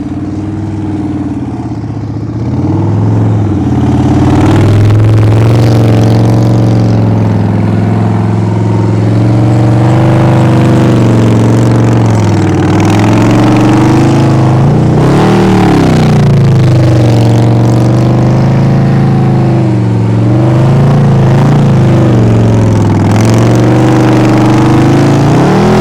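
A motorcycle engine, fitted with a fat rear tire, revs steadily and loudly during slow-speed practice riding, its pitch rising and falling with repeated throttle blips over a sustained drone close by.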